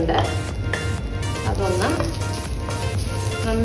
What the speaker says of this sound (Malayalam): നമ്മൾ തേങ്ങ വറുത്തരച്ച ചിക്കൻ കറി ആയതുകൊണ്ട് നമുക്ക് ആദ്യം തേങ്ങ വറുക്കാം.